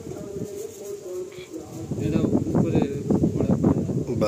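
Adult pigeons for sale coo in soft, throaty bursts nearby, with people chatting over them and faint wind in the background.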